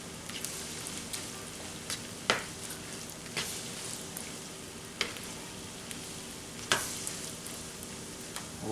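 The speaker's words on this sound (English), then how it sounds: "Let that simmer for just a second. Kind of let this bubble up" Taco hotdish casserole simmers in a pan, a soft continuous sizzle and gentle bubbling punctuated by scattered sharper pops and occasional stirring clatters, fairly quiet and close, with no voices.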